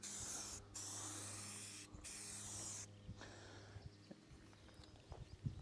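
Spray paint hisses onto a steel planter box in close bursts, the first three seconds loud with two brief breaks, then quieter scattered knocks and handling sounds.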